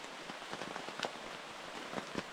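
Soft, steady rain patters throughout in the Lithuanian wilderness, with scattered sharper drops tapping a nearby surface.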